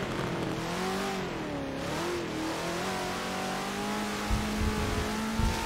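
Corvette GT race car in a sim racing event, engine revving and rising through the gears in a steady droning tone, loud and continuous with no talking.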